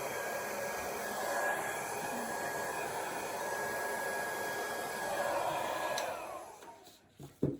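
Air blown steadily across wet black-based acrylic paint in a Dutch pour, a continuous close hiss like a hair dryer that runs for several seconds, then fades and sputters out near the end.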